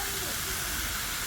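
Beef blood pudding mixture of minced beef frying in a pan, giving a steady broadband hiss throughout without pause, loud and close.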